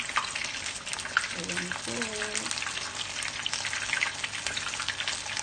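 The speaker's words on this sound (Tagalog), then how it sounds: "iprito po natin yan hanggang sa mag-brown siya" Tempura-battered sea bass and prawns crackle and sizzle steadily in hot frying oil, close and continuous, with someone speaking briefly and softly over the frying.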